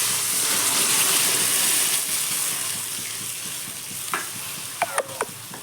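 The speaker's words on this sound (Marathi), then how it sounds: "बघू शकता आपलं वांग मस्त तेलामध्ये परतलेलं आहे. त्यामध्ये आता आपण कोमट पाणी टाकून घेऊया." Brinjal frying in oil sizzles steadily with faint stirring, then lukewarm water is poured in and the pan sizzles more softly, ending in a few sharp short spits and crackles near the close.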